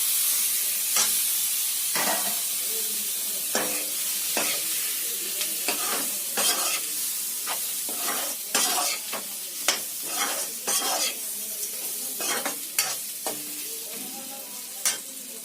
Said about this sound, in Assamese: তাৰপিছত আমি বইল কৰি থোৱা গাহৰিখিনি দি দিম